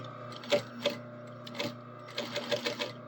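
A sewing machine stitches a quarter-inch seam over pins left in the fabric, giving short bursts of rapid mechanical clatter in an irregular rhythm over a low steady motor hum, close and moderately quiet.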